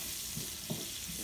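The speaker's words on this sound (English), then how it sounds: "Add a little bit to the pan so it can keep frying up." Food frying in a pan on the stove, with potatoes boiling and string beans cooking nearby; a steady, close sizzle continues throughout with small stirring bumps and no talking.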